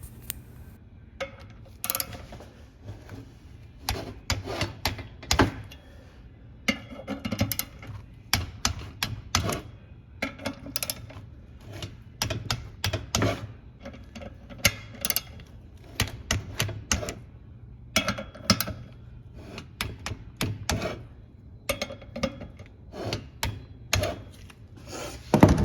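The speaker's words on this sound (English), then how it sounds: "I'm going to grab the torque wrench, set it to the factory spec, and we're going to go in a star pattern again" A torque wrench and ratchet tighten the brake rotor bolts on a BMW R1200RT motorcycle in a star pattern, giving many sharp, close clicks and ratcheting bursts in an irregular rhythm across the whole stretch, with no talking.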